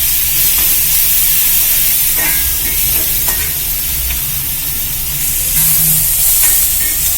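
Onions with salt sautéing in a pan: a loud, steady sizzle with soft stirring scrapes running throughout, close up and with no voices.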